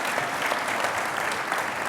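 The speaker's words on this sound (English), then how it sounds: "would ask you to join me in giving a round of applause for Bill." Audience applause at a 2020 annual company meeting after a fireside chat: dense, steady clapping from a sizable crowd, loud and continuous throughout with no break.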